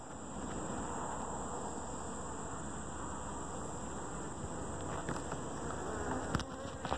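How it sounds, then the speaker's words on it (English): Honeybees swarming around an open hive during a frame check, a dense, steady close buzz that holds throughout, with a few faint knocks near the end. "if you just look at these bees"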